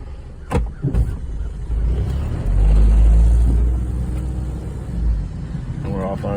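A high-mileage Jeep Patriot with 208,000 miles shifts into reverse and pulls away, its engine note swelling to a steady, close drone through the middle of the drive before easing off, with some brief clunks near the start.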